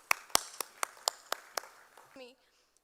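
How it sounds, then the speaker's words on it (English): Scattered hand claps from an audience at a business chamber knowledge summit, about nine sharp separate claps in an uneven rhythm, fairly close, then a brief voice-like sound before silence. "So a huge round of applause and thank you so much."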